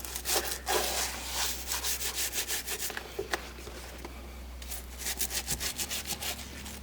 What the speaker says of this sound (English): get my toothbrush here and I go between the little cracks